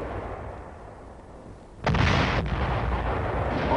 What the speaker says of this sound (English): a lonely howitzer somewhere in Korea lobbing out a few rounds to take care of an enemy